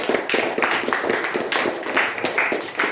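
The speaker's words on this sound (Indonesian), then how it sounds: "beri tepuk tangan dulu untuk Yopi Firdaus" A small group in a classroom claps for a classmate, a dense run of overlapping hand claps close by, uneven in rhythm and steady in loudness for a few seconds.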